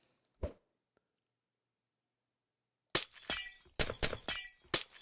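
Glass block cage shattering in a blocky video game: after a single early crack and a long silence, a rapid run of five or six loud, bright glass breaks and tinkling crashes, close and alone.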